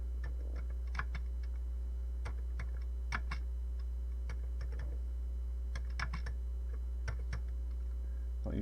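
Key presses on a Commodore 16 home computer keyboard, including its cursor keys, come as irregular clusters of sharp clicks over a steady low hum, with no one talking.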